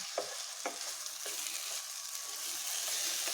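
Rice for vegetable biryani sautéed in a pan, giving a continuous soft sizzle with a few light scraping stirs near the start.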